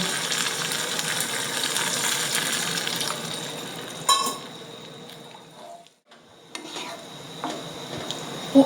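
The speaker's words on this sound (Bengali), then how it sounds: "এবার একটু এর মধ্যে জল দেব" Chilli paneer cooking in a pan as water is poured in, a steady sizzle and bubbling that dips and quiets, then a few utensil clinks against the pan, close up with no talking.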